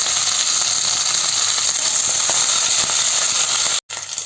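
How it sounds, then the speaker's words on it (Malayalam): Chopped green chillies sauté in a pan for a green peas and potato masala, with ginger and garlic browning alongside, making a steady, loud, close sizzling hiss that cuts off briefly near the end. "പിന്നെ രണ്ട് പച്ചമുളക് അരിഞ്ഞു വെച്ചിട്ടുണ്ടല്ലോ അതുകൂടി ചേർത്തിട്ട് നന്നായിട്ടൊന്ന് വാട്ടിയെടുക്കാം"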